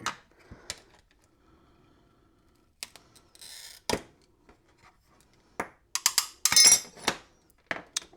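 Real mirror glass is cut and worked by hand: scattered sharp scratches, clicks and faint clinks arrive in short separate bursts against near silence, with a brief clustered flurry toward the end.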